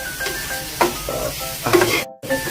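Broccoli sautés in a pan with a steady sizzle, broken by a few louder stirring scrapes and clatters and a brief silent gap, close and moderately loud, with no talk.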